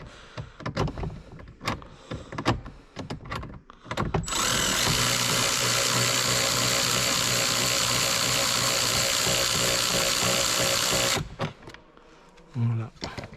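A wrench works an 8 mm nut loose from a car heater control unit, giving a steady, loud mechanical whirring and rattling for about seven seconds, with someone talking before and after.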